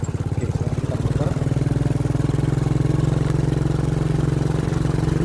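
A 1982 Honda C86 motorcycle engine runs at a steady idle, giving a close, even putt-putt pulse that continues throughout without a break.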